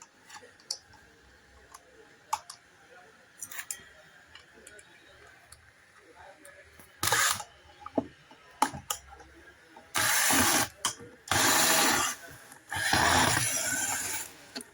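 Screws are unscrewed from a home theater subwoofer's transformer during repair, with scattered close metallic clicks and ratcheting screwdriver turns, several longer rasping bursts of turning, and someone talking in between.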